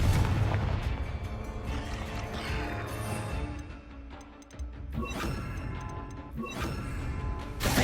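A Confringo spell blast in the video game Hogwarts Legacy sets off several booming explosive bursts over a rumbling, clattering game soundscape, moderately loud, with no talk.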